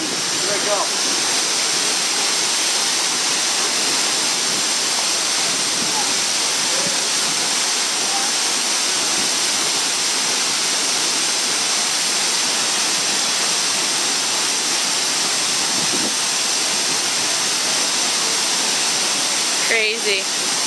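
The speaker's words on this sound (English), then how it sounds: "I'm about to go in one of the biggest waterfalls in the state of Arizona. It's Mooney Falls, 200" Mooney Falls, a 200-foot waterfall at Havasupai in the Grand Canyon, roars in a steady, loud, unbroken wash of white noise that fills the whole clip with no pauses.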